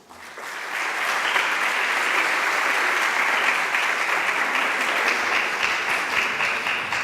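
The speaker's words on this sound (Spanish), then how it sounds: "les agradecemos un fuerte aplauso para la doctora" An audience at a university science event in Mexico breaks into applause, a dense, steady clapping that rises quickly and holds evenly for several seconds.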